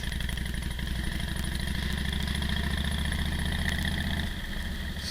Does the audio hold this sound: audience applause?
no